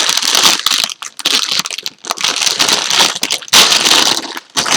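Plastic LEGO parts bag being torn open and crinkled, loud and close, with repeated crackling bursts of film tearing and rustling separated by brief pauses.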